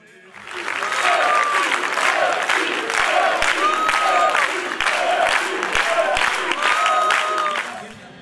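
A large fan group at the Konovizija song contest clapping in unison and chanting loudly, a dense rhythmic crowd roar with regular claps, sustained and near, fading in at the start.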